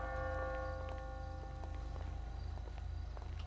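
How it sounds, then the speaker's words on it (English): A church bell rings at a wedding in a roleplay game, clear repeated tolls over a steady low hum, with clip-clopping steps alongside and no talk. "The bell's going."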